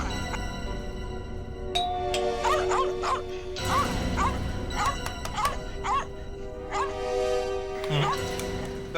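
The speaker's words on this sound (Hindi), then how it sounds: "लगता है घर में कोई है नहीं, कुत्ता परेशान है।" A dog shut inside a house barks in repeated sharp yips and whimpers, loud and agitated, the cries coming in quick bursts while people talk nearby.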